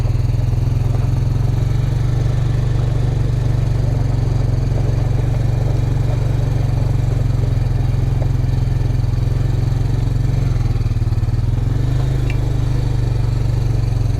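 Off-road motorcycle rolling out through a campground at Corral Canyon OHV area, a loud steady low engine drone close by that holds constant throughout.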